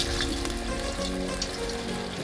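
Pieces of flour dough fry in oil in a wok, giving a continuous close bubbling sizzle at even volume throughout, with no voices.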